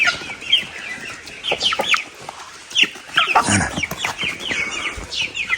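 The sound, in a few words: chickens (young roosters) clucking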